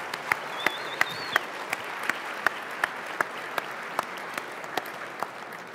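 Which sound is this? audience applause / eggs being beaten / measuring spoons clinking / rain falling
audience applause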